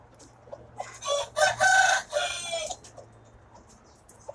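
Backyard chickens, a rooster with red and white plumage among the hens, with one loud, fairly close crow rising in the middle over faint clucking and background hum.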